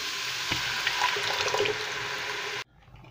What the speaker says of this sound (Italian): Possiamo allungare il tutto ancora con un'altra parte di acqua, a sciacquare anche la bottiglia.